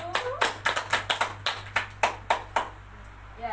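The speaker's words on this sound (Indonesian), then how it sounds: "Kita beri aplaus dulu." Hands clap during a parenting education session, sounding as about a dozen crisp, evenly spaced claps in a steady rhythm that are close and fairly loud over a low room hum.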